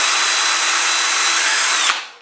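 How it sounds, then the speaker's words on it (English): A power drill with a 6 mm bit bores into plasterboard, running loud and continuous, then cuts out as the bit breaks through and the motor winds down. "it only requires a 6 millimeter diameter drill bit"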